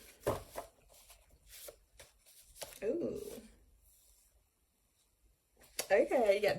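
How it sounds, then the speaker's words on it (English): Someone shuffles a deck of oracle cards in short papery bursts, quiet and close, separated by gaps of near silence, with a voice speaking briefly at the start and end. "I'm just going to shuffle this deck of cards."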